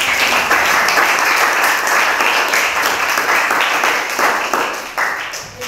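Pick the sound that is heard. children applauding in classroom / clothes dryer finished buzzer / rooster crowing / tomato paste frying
children applauding in classroom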